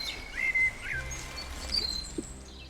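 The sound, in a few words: birds chirping in video game The Life and Suffering of Sir Brante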